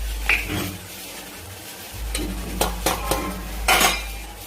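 A spatula stirs and sautés homemade black chili powder, byadgi chili powder, turmeric, coriander and cumin powder in a pan, making several distinct scraping and clinking strokes against the metal over a soft low sizzle.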